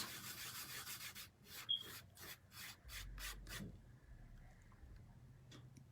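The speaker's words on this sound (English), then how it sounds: "you want to actually burnish it in your silicone mat." Holographic glitter is burnished onto a silicone mat with a finger, giving a series of quick soft rubbing strokes, close and faint, that taper off into quiet scuffs.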